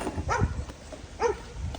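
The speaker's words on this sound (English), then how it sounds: "What are you barking at, dog?" A dog in an outdoor garden barks twice, short yipping barks spaced about a second apart, moderately close against quiet background.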